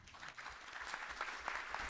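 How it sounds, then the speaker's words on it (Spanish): An audience at an electoral studies congress applauds to welcome a speaker, a steady patter of many hands clapping, distant and fairly quiet, with no talking. "Señoras y señores, recibamos con fuerte aplauso al doctor Leonardo Morlino."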